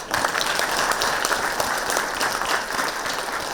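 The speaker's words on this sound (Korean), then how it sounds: "그래서 박수 한번 쳐주세요." An audience at a newspaper anniversary lecture event claps steadily and densely for a few seconds, with no other sound in the foreground.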